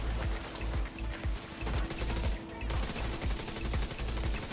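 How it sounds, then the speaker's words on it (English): An automated turret in The Division 2 fires steady rapid bursts of gunfire, a repeating rattling rhythm of shots that keeps going throughout with a little background noise. "This is my turret shooting at"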